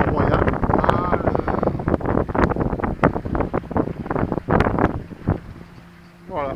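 A sailboat runs under sail off the coast between Saint-Tropez and Théoule, with a continuous rush of wind and water beneath someone speaking French almost throughout.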